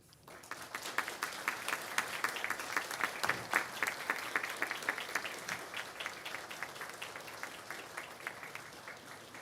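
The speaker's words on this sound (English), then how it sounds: "express your thanks for the support you've received over the years by acclamation, applause, cheers, or however way you like" Graduates at a 2021 graduation ceremony applaud and cheer in a steady, dense wash of clapping that starts abruptly and carries on at full strength throughout, with a roomful of hands close and loud.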